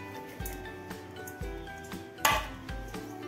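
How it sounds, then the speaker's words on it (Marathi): Chopped chillies, tomatoes and onions are mixed in a bowl for a Vidarbha-style methi kuchla, giving repeated clinks and knocks of a utensil against the dish, close and clear, with no talking. "तर इथे चिरलेल्या भाज्या आता आपल्याला यामध्ये मिक्स करायच्या आहे।"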